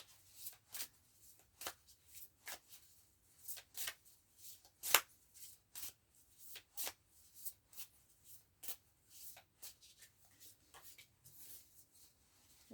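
Tarot cards being shuffled, a quiet series of crisp riffling bursts and soft slaps repeating at an irregular pace for several seconds, close by with no speech.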